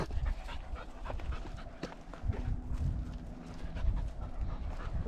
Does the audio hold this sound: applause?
no